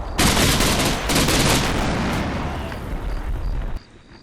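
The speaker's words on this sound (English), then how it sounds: "By this time, our mortars managed to get set up, so we use them to provide some covering fire for the left side of our advance." Mortar covering fire in the Combat Mission wargame set on a farm: a loud, sustained burst of booming blasts and crackling gunfire that rolls on for several seconds, then cuts off abruptly into quieter rumble.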